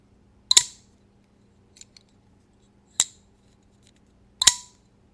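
Small knife, a Magna Cut blade, gives three sharp metallic tings close up, with faint clicks of handling between them, no talking.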